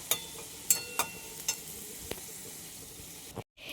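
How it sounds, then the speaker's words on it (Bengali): Spices fry and sizzle in a pan over a steady crackling hiss, with several sharp utensil taps and scrapes near the start before a brief cutout at the end. "এদিকে এই মশলাটাও কষাচ্ছি"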